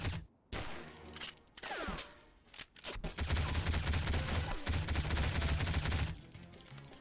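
Gunfire from the James Bond 007: Nightfire game, bursts of rapid shots building into sustained dense firing from about three seconds on, fairly loud, with no talk.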